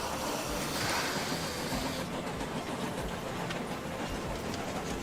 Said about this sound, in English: Oh, that's the sawmill. I was like, what on earth is making that noise? But it's all the trains!